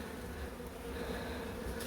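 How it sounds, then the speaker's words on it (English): A crowded colony of bees hums in a cramped beehive being relocated from a pillar in Werribee, a dense, continuous, close buzz with no talk. "Lots of bees."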